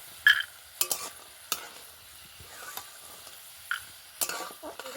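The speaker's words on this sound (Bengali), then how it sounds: "বাদাম এভাবে তেলের সঙ্গে নাড়াচাড়া করতে করতে দেখবেন বাদামটা খুব সুন্দরভাবে ভাজা হবে" Peanuts are stirred and fried in oil in a pan, a soft sizzle broken by sharp, irregular scrapes and clinks of the spoon against the pan, close and fairly quiet.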